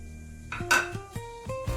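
A steel mixer jar is handled on a kitchen counter as fried mustard seeds, cumin and fenugreek are tipped in, giving several close metallic clinks and knocks in an uneven rhythm, with no talking.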